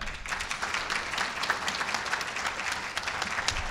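An audience at a scholarship awards ceremony applauds a winner, with steady, dense clapping from many hands filling the room at an even level throughout, and no talking over it.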